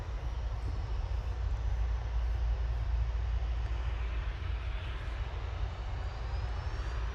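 A Ryanair airliner lines up on the runway at Manchester Airport, its engines producing a steady low roar that swells slightly mid-way and then settles, with no voices present.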